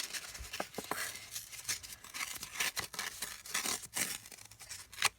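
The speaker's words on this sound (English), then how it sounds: "I rip things." Paper is ripped by hand for a journal, a series of quick, sharp tearing bursts close by and quiet, with no talking.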